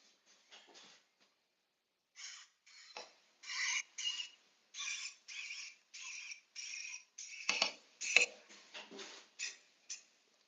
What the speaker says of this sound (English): That sound you heard is a terrible stripping noise.